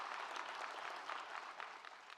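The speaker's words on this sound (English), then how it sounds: "Give him another round of applause." An audience claps together in a hall, a brief, dense burst of applause heard at a moderate distance, fairly soft and fading slightly at the end.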